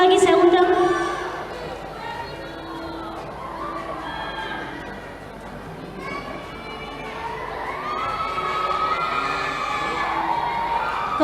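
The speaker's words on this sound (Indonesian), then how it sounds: "Beri aplaus yang meriah untuk 3 pemenang kategori kita pada hari ini" A lively audience at a choir competition in Makassar cheers and applauds the winners, with loud shouts and excited voices over a continuous crowd roar.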